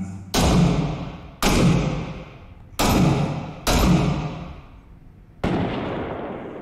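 Five heavy, booming blasts of gunfire and grenade explosions in the combat video game Six Days in Fallujah, each hitting hard and rolling off into a decaying rumble, spaced about a second apart, loud and close with no talking.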